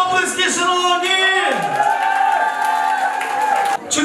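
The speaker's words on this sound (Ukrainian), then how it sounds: "Оплески, шановні!" Wedding guests applaud and cheer together in a festive hall, a loud, dense crowd wash with whoops and shouts, while an announcer's voice carries over the top.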